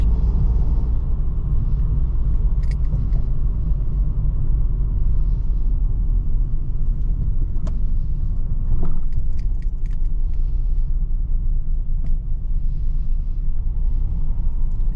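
Steady low engine rumble and road noise fill the cabin of a car driven by a newly licensed driver through daytime city streets in Liège, with a few faint clicks and rattles over the constant drone.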